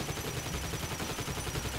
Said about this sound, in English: No, stop shooting!